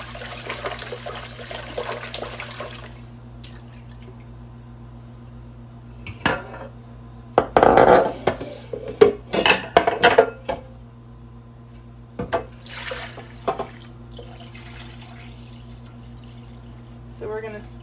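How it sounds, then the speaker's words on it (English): Starchy rice water is poured off from a cooking pot, with splashing and the clank of the pot and lid in short bursts. A low hum of the kitchen runs underneath, with talking between the pours. "Some people say rice water is really nourishing to plants, so you can pour it off and save it"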